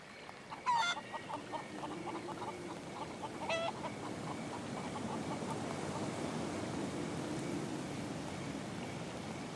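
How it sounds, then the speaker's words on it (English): Chickens clucking in a haunted-house video game, a couple of sharp squawks early on, then soft repeated clucks over a steady hissy ambient bed. "Hello, little chickens."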